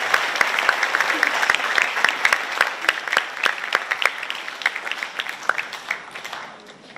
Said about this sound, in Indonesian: Tepuk tangan buat adik-adik sekalian.